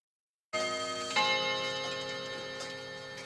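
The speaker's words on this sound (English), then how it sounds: "Some clocks chiming there." Several clocks chime together, bright ringing tones that start abruptly and sustain, with a second strike partway through, fairly close and alone with no voices.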